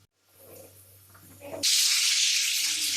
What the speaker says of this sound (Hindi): अब हम इसको अच्छे तरीके से भून लेंगे।